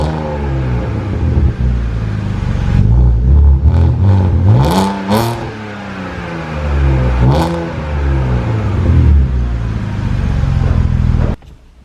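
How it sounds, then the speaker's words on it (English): A BMW fitted with a Dinan exhaust revs repeatedly with a loud, raspy, close-up engine note, rising and falling in several pulls before cutting off abruptly. "a Dynon exhaust that sounded just amazing. Literally, it had that nice raspy sound,"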